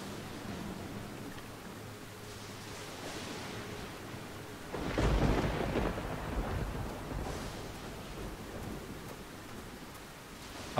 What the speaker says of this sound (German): Hört das Gewitter eigentlich auch wieder auf, wenn man draußen bleibt?